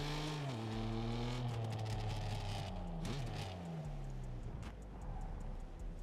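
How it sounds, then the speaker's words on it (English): A tuned BMW with a crack-and-pop exhaust tune in the racing game Test Drive Unlimited Solar Crown, its engine droning loudly and steadily through shifting revs, with faint crackles scattered over the exhaust note. "You know those BMW drivers who get that crack and pop tune? This is it."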